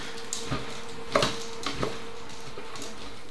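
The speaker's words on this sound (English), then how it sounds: "Get that stirring" Minestrone soup with pearl barley and basil is stirred in a pot, a few soft scraping clunks and clinks at an irregular pace over a low background hum.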